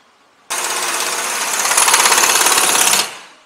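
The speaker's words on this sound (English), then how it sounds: "you'll put those 17mm bolts back through, tighten them up," A power impact tool runs in one continuous burst of about two and a half seconds, loud and close, as 17mm bolts on a Jeep rear wheel bearing are driven tight. No one talks.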